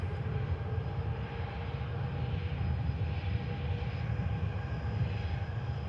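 An Emerald Airlines-operated ATR turboprop arriving at Manchester Airport from Dublin, a steady broad engine drone with a faint tonal whine, held evenly at moderate distance.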